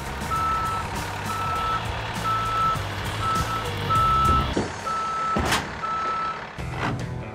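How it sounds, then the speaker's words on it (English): A tow truck sounds a steady series of evenly spaced reversing beeps as it backs in to a trailer carrying chemicals. A diesel engine idles beneath, with a couple of clanks and thuds near the end and no talking. "Tryke unhooks his winch line and pulls out of the way while Dwight backs in."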